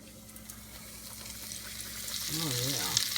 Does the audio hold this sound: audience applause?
no